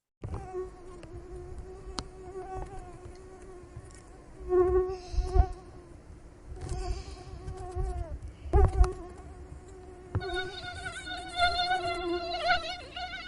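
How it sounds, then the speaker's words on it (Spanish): A mosquito buzzes close to the microphone with a thin, whining hum that wavers in pitch and loudness, heard alone without any voices. "mosca, todos coinciden, zancudo, mosca."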